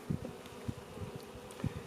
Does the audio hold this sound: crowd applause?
no